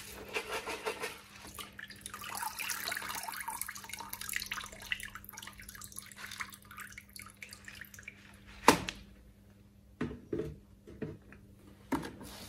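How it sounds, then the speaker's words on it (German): Aquarium filter media from an Eheim Professionel 5e canister filter rinsed under tap water, with a steady run of water and dripping, then several distinct splashes and drips toward the end, close by and moderately loud. "Da es jetzt das erste Mal ist, dass ich sie wasche, werde ich sie erstmal ohne Aquariumwasser spülen und dann nachher mit."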